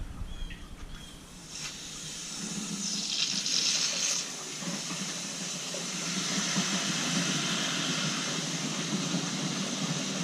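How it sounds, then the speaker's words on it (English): Water from a garden hose runs at light pressure through a Dodge Ram heater core into a drain pan, a steady rushing gush with gurgling surges that swells and holds. "Then I'm gonna take my hose, put it in the end here, and go for it."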